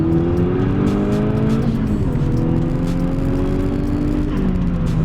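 A 2019 Audi RS3 with a Unitronic Stage 2 tune pulls hard under acceleration, its engine note climbing steadily in pitch and then shifting, loud and continuous from inside the cabin with no talking.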